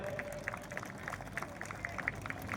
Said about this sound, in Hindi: एक बार तालियां जोरदार हो जाए।